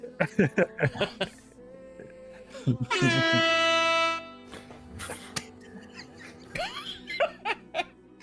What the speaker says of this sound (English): The foghorn was so realistic.